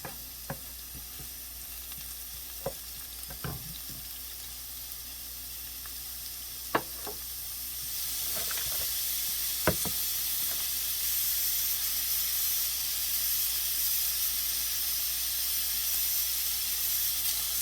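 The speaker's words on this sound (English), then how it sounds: "fry my spinach up, a little bit onion, a little bit pepper." Spinach, onion and pepper fry in a pan with a steady sizzle and hiss, punctuated by sharp clicks and scrapes of stirring, the sizzle growing louder and denser about halfway through.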